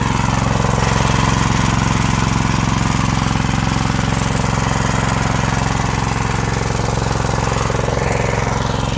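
A gasoline motor pump converted to run on bottled gas fuel runs steadily and loudly nearby, its engine drone continuous and unbroken throughout with no pauses or voices.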